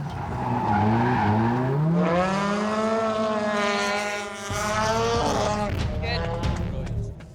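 A drift car slides around the track at a drifting competition, its engine and squealing tires holding a loud, continuous wail that rises in pitch, dips briefly, then swells again.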